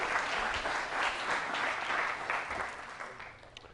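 An audience applauds to welcome a guest speaker, Dr. Craig Etcheson, at a hosted talk: sustained, full clapping from a roomful of people that tapers slightly at the end.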